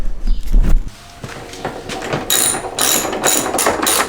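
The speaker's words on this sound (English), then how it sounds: "then just remove this screw, 4 screws" Screws being removed around the headlight area of a Tesla produce close ratcheting and clicking mechanical sounds, with a thud early on and a run of sharper bursts of metallic clicks later.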